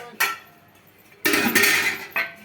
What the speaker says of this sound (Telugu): ఇంకా మూతలు అయితే వేస్తున్నాను వేడి ఉంటాయి కదా వాటర్